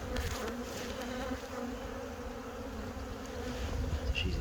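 Honeybees hum steadily around an open hive during a spring colony inspection, a dense continuous buzz of many insects close by, with no voices.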